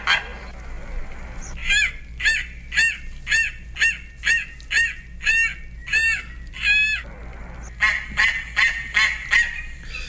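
A Steller's sea eagle gives a steady series of about a dozen harsh, barking calls at an even rhythm, followed by a quicker run of shrill notes.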